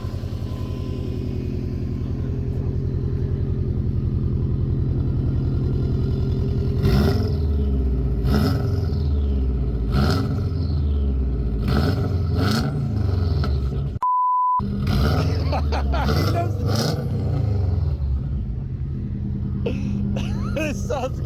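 Subaru Forester engine running after a new fuel pump was fitted, a loud steady idle with several sharp revs rising and falling in the middle, close by, with people talking over it.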